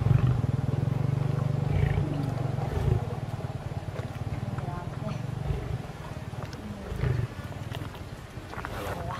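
Tigers roaring with deep, low rumbles over a continuous heavy hum, while people talk throughout.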